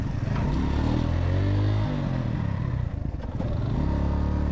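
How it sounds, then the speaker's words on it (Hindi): A motorcycle is ridden slowly into a parking spot at a campsite near Deosai and Sheosar Lake. Its engine rumbles loud and close, with a brief rev and a clatter before it settles. "ये हम यहाँ पर बाइक पार्किंग कर देते हैं और आगे चलते हैं।"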